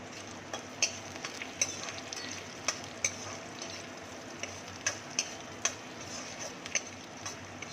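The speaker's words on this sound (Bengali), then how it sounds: "এবারে এটাকে গুলে রাখবো জল দিয়ে" Soy sauce being stirred into water to dissolve it in a small kitchen bowl, with soft scraping and sharp spoon clinks tapping irregularly against the side at close range, no talking.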